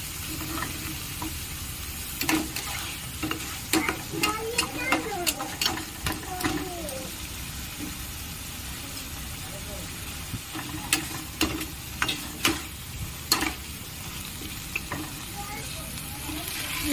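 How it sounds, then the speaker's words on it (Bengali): Chopped tomato being stirred into a mustard hilsa curry in a pan, with steady frying sizzle and scraping spoon strokes, quiet stretches between bursts of stirring. "দিয়ে একটু ভালো করে নেড়ে নেব।"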